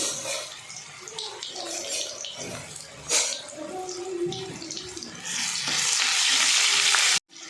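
Ginger and garlic sizzle in hot oil with cumin and mustard seeds while being stirred, a steady close frying hiss that grows louder and brighter toward the end, with a short scrape midway.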